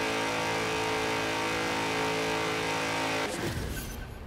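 Engine of a 2011 BMW X5 M in Forza Horizon 4 revving hard at steady high pitch, then an abrupt shift as the note drops and the engine pulls again through the next gear.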